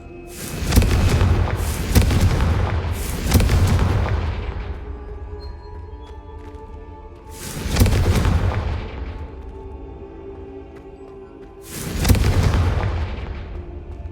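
Confringo spell explosions in Hogwarts Legacy, five booming blasts in uneven spacing, each a sharp loud hit with a rumbling decay, three close together early and two more spread apart later.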